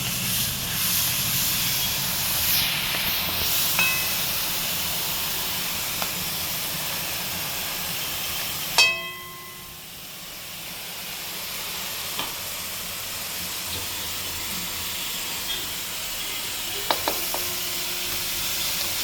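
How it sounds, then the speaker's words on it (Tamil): Ground shallots sauté in oil in a pan for a spicy mutton kulambu, giving a steady hiss and sizzle. Occasional stirring scrapes break in, along with a sharp clink midway, and no one speaks. "அரைச்சி வச்ச சின்ன வெங்காயம் அந்த வெங்காயத்தை போட்டு வதக்கணும்."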